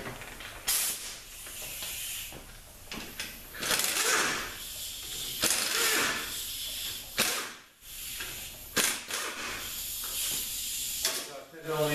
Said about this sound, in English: now we're going to pull the covers off.